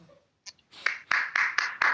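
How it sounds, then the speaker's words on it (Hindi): Audience applause at a motivational team meeting: a short burst of clapping from a crowd, rising after a brief pause into several quick swells of claps, fairly close and loud. "इसके लिए भी आपके लिए ताली होनी चाहिए।"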